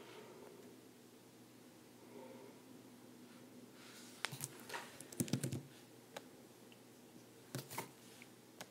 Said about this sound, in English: And let me get my typing out here.